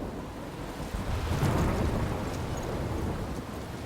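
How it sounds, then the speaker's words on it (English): Thunderstorm in the video game Life is Strange Remastered, with a steady roar of rain and wind and a deep rumble of thunder swelling near the middle, continuous and fairly loud with no talking. "I'm trapped in a storm?"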